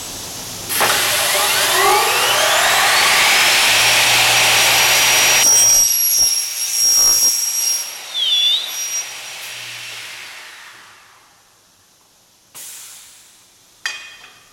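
A saw cutting aluminum stock, a loud continuous high-pitched whine and hiss as the blade bites through the metal, rising, then winding down to quiet with a few short clanks at the end.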